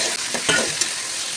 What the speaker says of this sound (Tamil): பட்டை, சோம்பு, கிராம்பு, மிளகு, சீரகம், கசகசா இது எல்லாத்தையும் போட்டு வதக்கிக்கலாம்.